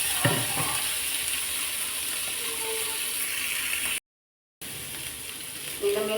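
Fish frying in a pan, a steady crackling sizzle with faint clicks, broken by a brief silent gap before the frying continues.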